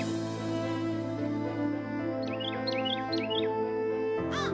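Birds, a parrot and a myna in a forest story, give a few quick, bright chirps and a final rising call over a sustained musical drone.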